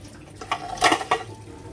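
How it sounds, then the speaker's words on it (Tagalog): Water drained off a pot of boiled eggs in a kitchen, a short splashing pour with a couple of louder gushes, fairly close and brief. "Alisin natin ang tubig."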